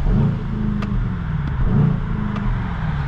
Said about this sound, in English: So as you can see, we have a rev limiter at around 3000 RPM.